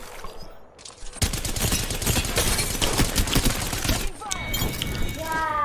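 Rapid gunfire in the shooter game Apex Legends, a dense burst of automatic shots lasting a few seconds, followed by bright metallic ringing tones at the end.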